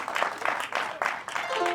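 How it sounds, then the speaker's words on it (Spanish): An audience claps in steady bursts at an outdoor harp festival in Paraguay, fairly close, with a voice speaking over the applause. "el aplauso para que podamos presentar el arpa Yeroquí del Festival del Tacuarí en Guarambaré"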